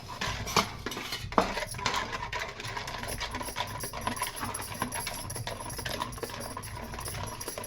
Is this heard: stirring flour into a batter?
yes